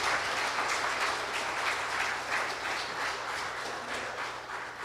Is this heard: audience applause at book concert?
yes